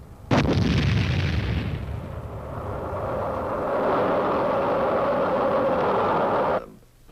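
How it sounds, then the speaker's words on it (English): A howitzer fires a round at an enemy outpost in Korea: one sharp, loud blast, then a long rolling rumble that sustains for several seconds before cutting off. "howitzer somewhere in Korea lobbing out a few rounds to take care of an enemy outpost"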